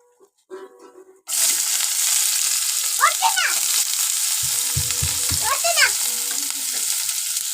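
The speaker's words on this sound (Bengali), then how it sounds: "পেঁয়াজগুলো লাল লাল করে ভেজে নেব" After a short quiet start with small clatters, chopped onions hit hot oil with a torn bay leaf and whole cumin, bursting into a loud, sustained sizzle with occasional stirring scrapes and a faint voice-like squeal.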